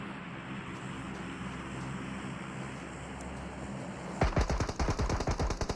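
Esports gunfire exchange in PUBG Mobile, opening with a steady drone of background vehicle or ambient noise, then a fast burst of repeated close gunshots near the end.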